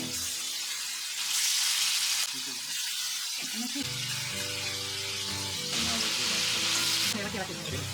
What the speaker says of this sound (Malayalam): ഇനി ഒരു പാനിലേക്ക് ആവശ്യത്തിന് എണ്ണ ഒഴിച്ച് ചൂടാകുമ്പോൾ മസാല പുരട്ടി വച്ചിരിക്കുന്ന ചെമ്മീൻ ചേർത്ത് ഫ്രൈ ചെയ്ത് എടുക്കാം